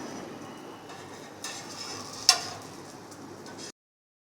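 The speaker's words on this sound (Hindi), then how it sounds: "अब हम इस तरीके से रोटी की तरह इसको सेक लेंगे।" Tandoori naan roasting on a hot pan at home without an oven: a soft steady sizzle with light stirring and ticking, one sharp tap midway, then sudden silence as it ends.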